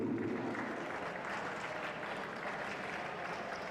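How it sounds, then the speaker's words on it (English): Spectators clap for the women's lead medalists at a European Cup climbing competition, a fairly faint, distant, steady patter of applause with no single claps standing out. "That's now the time where you clap your hands."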